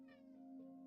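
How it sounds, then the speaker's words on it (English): A house cat gives a single drawn-out meow close by, clear and alone in an otherwise quiet room. "Cat."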